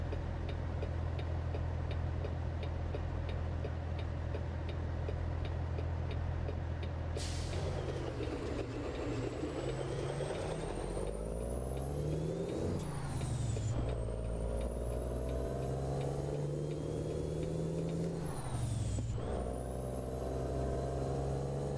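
A Cummins 550 or 600 truck engine in the video game American Truck Simulator, a steady low diesel rumble that climbs in pitch through several gear changes, with air brake hisses and the turbo whine rising between shifts.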